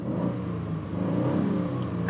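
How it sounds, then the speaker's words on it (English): A car engine is revved hard in a quick rising surge that holds loud and close for a couple of seconds before a sharp burst at the end. "Yeah, give it a good rev."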